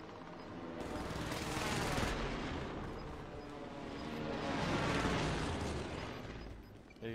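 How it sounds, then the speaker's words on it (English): A precision airstrike lands in a video game: dense, overlapping explosions and crackling blasts build into two long swells of rumbling noise, loud and continuous without pause. "Precision airstrike incoming."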